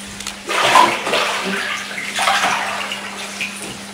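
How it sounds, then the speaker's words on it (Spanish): Water pours from a tap into a baby bathtub, a splashing gush that rises and ebbs in waves, close and fairly loud, with a steady low hum underneath. "deja un poquito más el agua que caiga"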